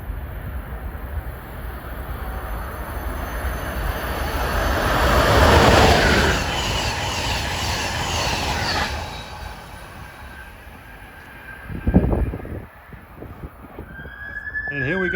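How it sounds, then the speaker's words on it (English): Train 653 from New York to Harrisburg roars past on a busy New Brunswick, New Jersey line, the rumble swelling to a peak then fading, followed by a brief squeal and a short horn-like tone near the end. "Here comes 653 from New York to Harrisburg."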